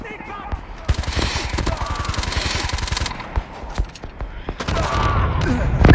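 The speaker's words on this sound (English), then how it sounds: "I just got shot from the side, darn it" Rapid automatic gunfire from a Call of Duty Mobile match rattles in fast bursts, close and loud, with a sustained stretch of shots followed by scattered single cracks and further bursts amid game effects and some talk.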